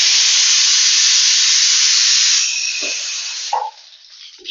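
A pressure cooker on a home kitchen stove, cooking for hotel-style sambar, whistles as it releases steam: a loud, close, continuous hiss that weakens after a couple of seconds and sputters out, heard alone.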